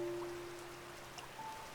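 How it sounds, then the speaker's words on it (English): Soft, steady rainfall in the Minecraft video game, a quiet continuous hiss of drops on surfaces with a faint tone running beneath and no voices. "Let's take a moment and just really appreciate the nice, lovely rain sounds."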